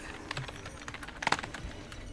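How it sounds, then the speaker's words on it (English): Quick, uneven keystrokes on a computer keyboard while playing a typing game, a soft close-up patter of clicks with a brief flurry of faster taps partway through. "I always have to look at the keyboard when I type, though, too"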